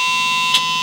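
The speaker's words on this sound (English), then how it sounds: "wait for the beep" The wiring system in a converted bus switches on with a short electronic beep, a single brief chirp over a steady high electrical tone.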